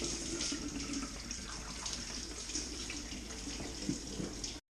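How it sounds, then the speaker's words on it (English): Coolant pours out of a VW MK2 GTI 8V engine during engine removal, a steady splashing liquid stream running unbroken and fairly close throughout, with no talking. "the next thing I want to do is drain my coolant"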